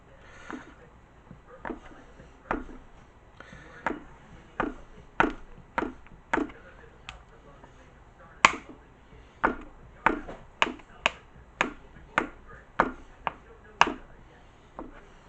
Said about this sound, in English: I'm just going to slowly chop it up.